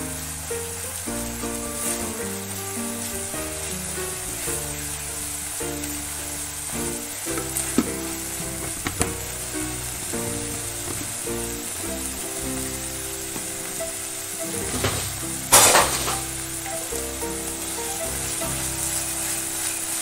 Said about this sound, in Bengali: আদাটা ভালো করে ভেজে নেব, সব মশলার সঙ্গে মিশিয়ে দিলাম।